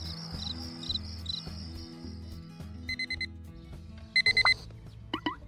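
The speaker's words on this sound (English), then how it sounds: "The next morning, when the alarm clock rings, breaking the early morning silence, Lily immediately gets up." A morning alarm clock rings in bright repeated electronic bursts over a soft rhythmic musical backing, with a few sharper beeps near the end and no talk.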